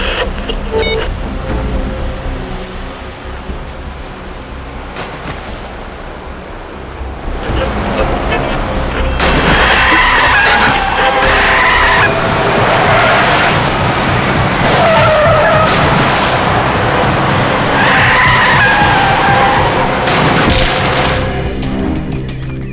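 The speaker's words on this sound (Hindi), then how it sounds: "गाड़ी आपे से बाहर हो गई और इस खेत में आके स्कैर क्रॉ से जा टकराई" A car skids out of control with screeching tires, a loud sustained engine roar and repeated squeals building over about twenty seconds, with a booming impact feel in a dramatic TV crime drama scene.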